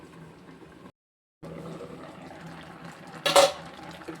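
A pot of nagarai dried fish curry with vegetables stirred by a spoon, making soft clinks and scrapes against the metal over a low bubbling simmer, with one louder scraping clatter near the end; no voices.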